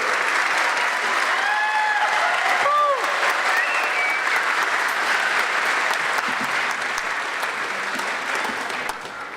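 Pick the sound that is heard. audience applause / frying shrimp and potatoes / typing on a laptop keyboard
audience applause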